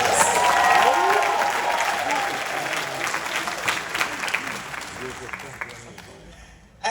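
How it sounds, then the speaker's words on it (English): A crowd at a Jamaica 60 launch reception in Miami claps loudly and steadily with a few cheers, the applause gradually fading out over several seconds. "I really want you to give Jamaica and to give yourself another big round of applause."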